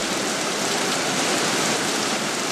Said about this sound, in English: We were greeted generously by rain.